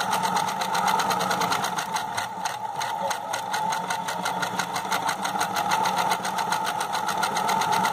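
Sewing machine running a straight seam along the full length of fabric for handmade cloth shoes, a steady fast mechanical whir and rattle that stays even and close throughout.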